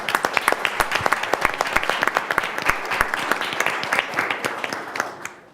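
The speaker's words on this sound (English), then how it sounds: "Please join me in a round of applause for them." A conference audience applauds the staff at a policy event on Iraq, many hands clapping in a steady, moderately loud round that tapers off at the end.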